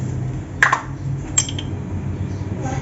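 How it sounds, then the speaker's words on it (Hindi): Salt, cumin and carom seeds are pounded in a mortar, giving two sharp, brief metallic clinks a moment apart over a low background hum. "और इसको अब जो है हम अच्छे तरीके से कूटने लगे हैं।"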